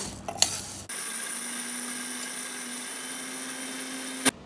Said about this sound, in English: Then we will grind into a fine powder.